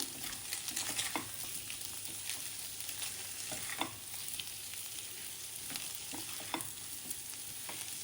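Spices are stirred into taro curry as it fries in a pan, a steady sizzle with repeated scraping strokes of the spoon throughout, close and fairly loud, with no talking.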